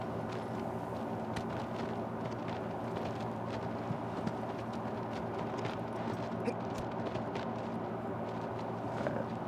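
Horse hooves in the video game Shadow of the Colossus, a steady rhythmic clip-clop of galloping running throughout, close and continuous over a dense rumbling bed of wind and ambient noise.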